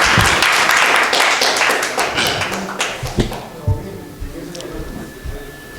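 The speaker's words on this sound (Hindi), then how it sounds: "जोरदार तालियां।" Loud, dense audience applause at a Hindi poetry gathering in Indirapuram, Ghaziabad, fading out after about three seconds into a few scattered claps and taps.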